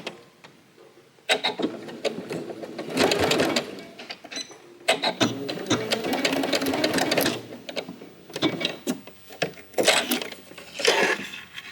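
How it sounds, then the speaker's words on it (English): A sewing machine fitted with a zipper foot stitches across a pouch and back-stitches, running in several loud, close bursts of rapid mechanical whirring separated by brief pauses. "put my needle in, and then stitch across and back stitch"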